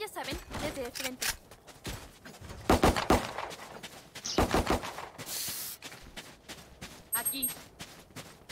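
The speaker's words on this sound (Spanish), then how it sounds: "Los tiros de precisión" Rapid gunfire from a first-person shooter video game comes in bursts of sharp shots and brief volleys, mixed with game sound effects, while someone talks over the action.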